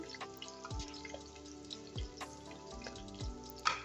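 Chopped onion frying in a little cooking oil in a pan gives a steady, soft sizzle with scattered small pops and crackles, close and fairly quiet.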